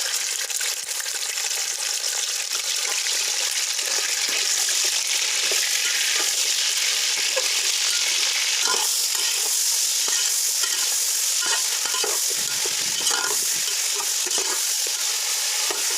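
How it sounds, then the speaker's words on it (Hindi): Chicken pieces sizzle steadily in hot oil with whole spices in a pot for Degi chicken korma, a loud continuous frying hiss with occasional stirring scrapes, close and without talk. "अब इसके अंदर मैं ये चिकन शामिल करने लगा हूँ इस ऑयल में।"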